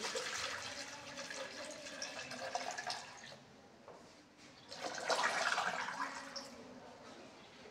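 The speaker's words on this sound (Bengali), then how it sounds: "এই ওষুধটি মিশ্রণের জন্য আমি আরেকটি মগ ব্যবহার করছি।" Water pours and splashes into a mug as livestock calcium medicine is mixed, a steady liquid rush that swells louder near the end, close and with no talk over it.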